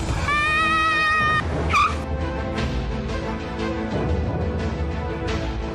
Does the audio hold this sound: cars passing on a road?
yes